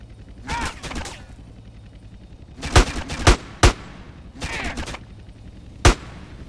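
Heavy weapon gunfire in GTA San Andreas, several loud sharp shots and short bursts spread across the clip, some clustered close together, with game noise between them.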